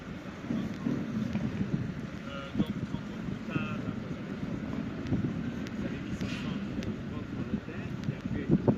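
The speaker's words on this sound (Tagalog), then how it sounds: "Sobrang hangin." Gusty wind buffets the microphone with low rumbling rushes, steady throughout, alongside a boat's faint hum and scattered small knocks.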